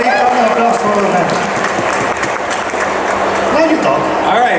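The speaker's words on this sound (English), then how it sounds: "Please big applause for them." Crowd applause at a comic convention Q&A panel with Marvel artists, continuous clapping and cheering mixed with voices and a host speaking over it.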